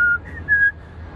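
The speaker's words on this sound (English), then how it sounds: "I mean, I can whistle," A person whistling with the lips, no fingers, giving two short clear high notes separated by a brief gap, close and alone.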